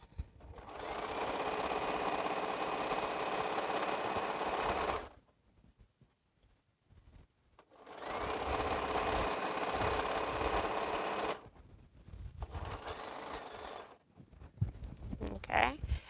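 Domestic sewing machine stitching a quilt strip, running in long steady bursts with a fast mechanical whir, pausing twice, then a few shorter runs with small clicks.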